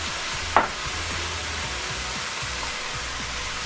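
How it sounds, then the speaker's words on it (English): Tomato passata is poured onto cod in a cast iron skillet, bringing a sudden splash followed by a steady sizzle and soft bubbling that carries on close and moderately loud, with no talk. "I'm going to add 400 millilitres of tomato puree or tomato passata."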